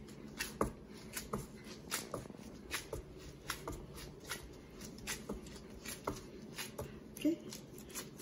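Focaccia dough worked by hand on a counter, repeatedly folded and turned, giving soft sticky slaps and squishes in an uneven rhythm, close and fairly quiet against faint room noise.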